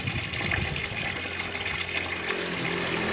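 Water gushes and pours out steadily, filling a container, with a continuous close splashing flow and no talking.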